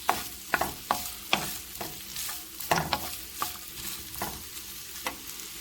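Vegetables sautéing in half a tablespoon of corn oil in a pan, steady close sizzle with repeated sharp scraping strokes of a stirring utensil, no talk.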